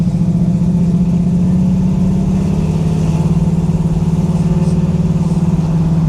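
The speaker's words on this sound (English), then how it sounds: "Man, that big block sound." A 1969 Chevrolet Camaro 396 SS with a big-block V8 runs close by in a deep, even, throbbing burble. Its pitch stays fairly constant throughout, and no voices are heard.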